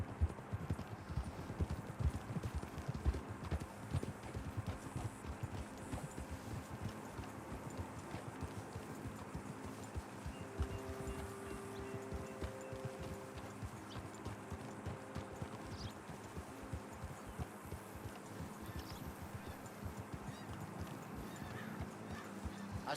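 Horse hooves clip-clop in a steady, continuous rhythm in the video game Red Dead Redemption 2, with occasional faint whinnies and ambient game noise.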